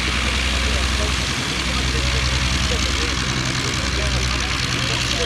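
Aircraft engines drone continuously as planes taxi clear of the runway at an air display, a steady low rumbling idle with a broadband roar, moderately close.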